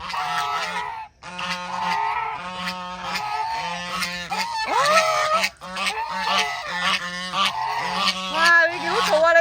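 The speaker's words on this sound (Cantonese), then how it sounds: "走地鵝。" Free-range geese honk close by in a loud, repeated chorus of nasal calls that overlap almost without pause.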